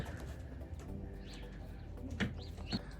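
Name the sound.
racing pigeons at release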